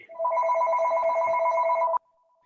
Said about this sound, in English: It's a really loud ring you got there, Alan.